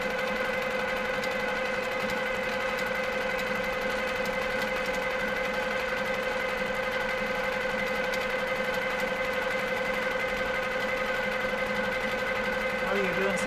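A quilting machine hums steadily as it stitches a scarf quilt, a continuous motorized whir with a high whine that holds level throughout, with faint talk underneath.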